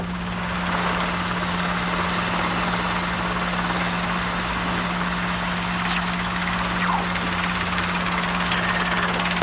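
A helicopter engine runs steadily and loudly throughout on a taxiway before departure, with a constant rotor hum and broad whooshing noise, no voices.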